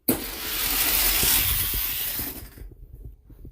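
Die-cast toy cars, a Lexus and a lightweight Tomica, roll and rattle down a racing track in a loud continuous whir that cuts off abruptly near the end, leaving faint ticks.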